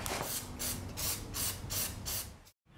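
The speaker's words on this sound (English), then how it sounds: "Now you're going to be spraying like traditional spray paint with this stuff." A can of Plastidip sprays onto foam in a run of short, even hissing bursts, about six in quick succession, close and loud, ending in a brief silence.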